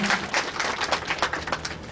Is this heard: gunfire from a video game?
no